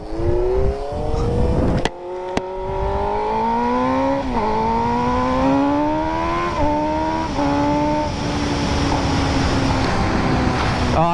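On a nighttime ride in Mexico, a motorcycle snaps off two sharp exhaust pops early on, then its engine climbs in pitch again and again as it accelerates up through the gears, loud and close.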